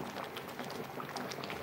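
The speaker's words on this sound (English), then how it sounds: "I boil this beef with only a teaspoon of salt." Beef simmers in a pot of salted water with onion, a steady close bubbling and gurgling that continues without pause and with no voices.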